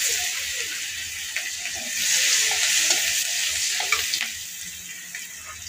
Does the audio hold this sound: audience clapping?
no